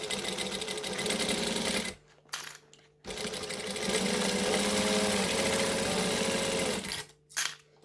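Sewing machine stitching a bag in a home sewing setup, running in long steady bursts with two short pauses where the motor stops, loud and close with no talking.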